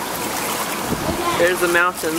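Water bubbling and churning steadily in an outdoor hot tub at a resort, a close, continuous wash of noise with people talking over it.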